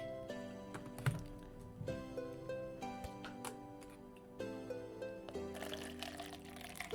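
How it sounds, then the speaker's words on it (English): Water being poured into a container, a faint liquid trickle close to the microphone beneath background music. "some nice water pouring ASMR"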